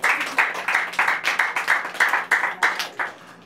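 Church congregation breaking into applause, a dense wash of many hands clapping in rhythmic surges that swell and dip repeatedly, steady and fairly close throughout.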